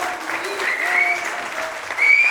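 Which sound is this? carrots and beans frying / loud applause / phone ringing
loud applause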